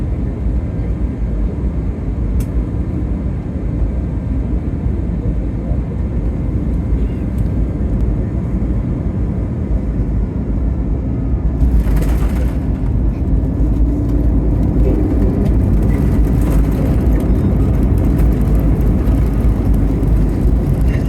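Turkish Airlines passenger airplane landing, a steady broadband cabin roar with low rumble that swells and brightens partway through as airflow and engine noise build, continuous and close throughout.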